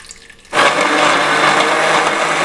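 A kitchen blender grinds tomato, onion and garlic with a little water into paste, starting abruptly after a quiet moment and then running loud, steady and close.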